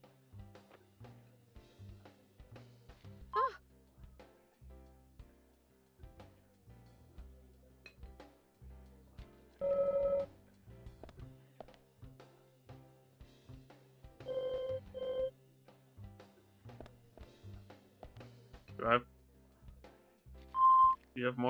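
Beep speech from the survival horror game Deadly Premonition: Origins, with quiet electronic chirps and tone bursts in halting, talk-like runs over low game ambience.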